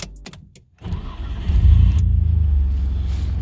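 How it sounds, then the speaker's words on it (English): A Nissan Skyline R33 GTS coupe engine cranks and catches after a few clicks, then settles into a steady low idle rumble, heard from close by inside the car. "I'll start it up for you."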